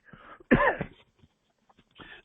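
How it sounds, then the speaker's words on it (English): A single sharp cough rings out close by, with a faint breathy throat sound before it and another small rasp shortly after. "I've got a cough"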